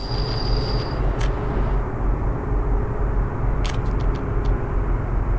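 A train rolls past in the Soviet-era city-building game Workers & Resources: Soviet Republic, a steady loud rumbling drone with a few brief high clicks and squeals over it, with no talk.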